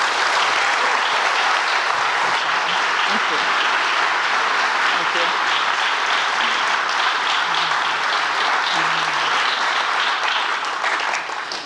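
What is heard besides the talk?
audience applauding the panel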